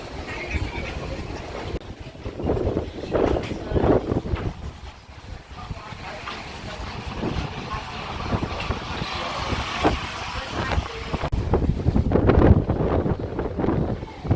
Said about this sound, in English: they're actually tugging them into port since it's very windy out